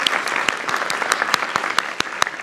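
A crowd applauds India's T20 World Cup win, a steady bed of many hands clapping with sharper individual claps poking through, moderately distant and continuous throughout.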